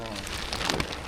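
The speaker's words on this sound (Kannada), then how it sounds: "ಆಗಲೇ ಮಳೆ ಸ್ಟಾರ್ಟ್ ಆಗಿಬಿಟ್ಟೈತೆ" Rain falls near Sakleshpur during a trek, a brief burst of close pattering drops on surfaces with a steady hiss, no talking.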